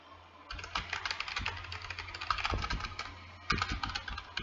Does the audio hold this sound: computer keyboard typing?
yes